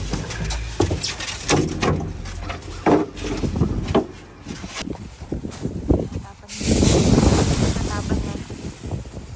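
Gusty outdoor wind buffets the microphone in uneven rumbling bursts, with voices talking in between, and a stronger sustained blast toward the end.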